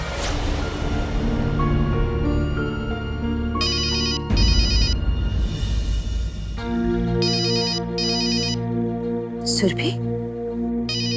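A telephone rings late at night during a Hindi television drama scene, sounding in repeated short bursts over steady background music, with a brief voice near the end.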